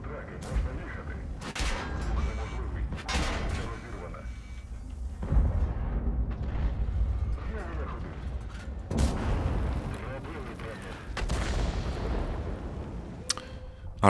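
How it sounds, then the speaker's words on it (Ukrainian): Artillery shells burst in an online tank battle game, with several sharp, booming impacts spread across the stretch among quieter gunfire, while players talk over the action. "Арта люта."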